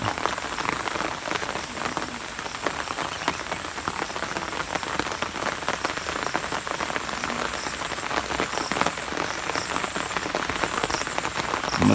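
Steady rain patters on a surface, a dense continuous hiss of drops at moderate volume with no voices.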